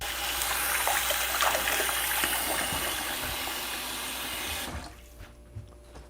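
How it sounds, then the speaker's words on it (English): Hands being washed under a running tap in a kitchen, with a steady close rush of water and splashing that abruptly stops near the end, leaving a quiet room and a few small clicks. "let me wash my hand here"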